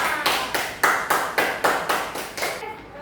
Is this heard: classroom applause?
yes